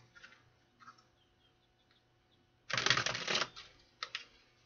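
A deck of playing cards is riffled in a quick burst of fluttering clicks, preceded and followed by a few soft taps and card flicks.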